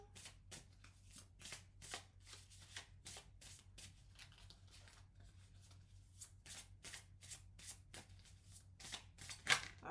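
Tarot cards being handled and drawn during a reading: a steady run of soft, close papery flicks and riffles, repeating in quick rhythmic bursts over a faint low hum, with no talking.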